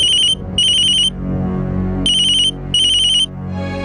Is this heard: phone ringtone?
yes